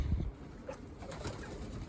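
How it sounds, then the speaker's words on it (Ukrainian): Pigeons in a loft coo softly and briefly, a quiet low murmur with a light rustle around it and no talk. "Так, знову я коло голубів."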